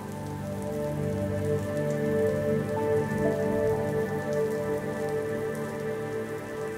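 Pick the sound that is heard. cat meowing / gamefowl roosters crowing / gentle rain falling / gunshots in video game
gentle rain falling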